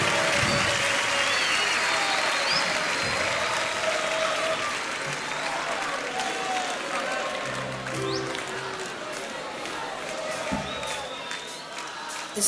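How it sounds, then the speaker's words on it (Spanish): Concert audience at a rock show applauding, with sustained clapping and some cheering from a large crowd, gradually easing over about twelve seconds. "Fuerte el aplauso para Martín, por favor."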